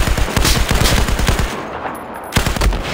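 Rapid automatic gunfire in the video game Battlefield 4, loud bursts of closely spaced shots, a brief pause, then another burst near the end.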